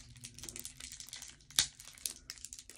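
Cards being handled and unwrapped, close crinkling and rustling of packaging with one sharper crackle midway, faint and intimate, with no talking.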